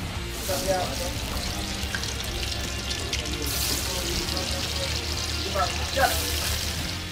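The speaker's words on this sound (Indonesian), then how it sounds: "saya mau buru-buru goreng pisang dulu" Banana pieces fry in hot oil during a sea fishing trip off Manado, a soft continuous sizzle and crackle with scattered pops, heard at moderate level under faint background sounds.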